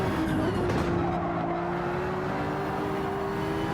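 A damaged race car in Gran Turismo 7 drones along with a steady, continuous engine tone and a faint scrape of tires. It is fairly distant and even, with no talking.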